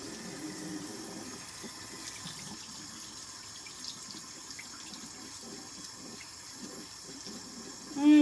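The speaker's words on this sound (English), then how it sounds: "And then rinse." Water from a tap runs steadily into a sink as a face is rinsed after makeup removal, a soft continuous splashing at close range with a brief louder burst at the very end.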